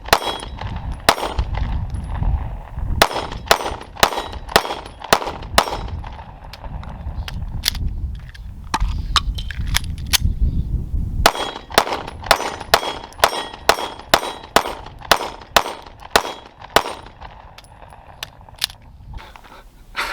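Rapid sharp shots from a Sig P365 pistol ring out in quick strings, loud and close, with short pauses between bursts.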